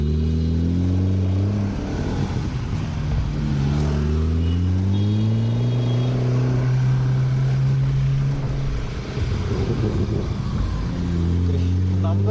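Nissan GT-R sports car pulling out of a petrol station onto a road in Bangalore, its engine droning loud and close with shifting, rising tones, with a voice talking over it.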